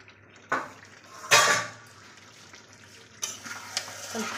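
Chicken being stirred in a cooking pot over medium heat, with a soft background sizzle broken by a few scraping, clattering strokes of the utensil against the pot, close and alone.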